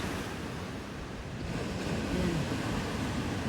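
Strong ocean waves wash onto a beach, with a continuous surf roar and wind buffeting the microphone.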